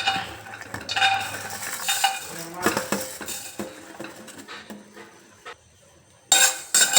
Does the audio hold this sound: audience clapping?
no